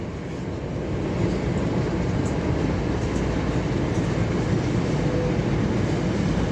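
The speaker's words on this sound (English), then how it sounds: "This freight train's going on forever." A long freight train rumbles steadily through Stafford station on the West Coast Main Line, a dense continuous roar of wheels and wagons, loud and unbroken throughout.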